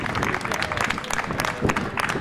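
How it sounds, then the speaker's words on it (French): An audience at a local public event in Saint-André-les-Alpes applauds with dense, continuous clapping that stays steady and fairly loud from start to finish. "Voilà, vous avez un tonnerre d'applaudissements."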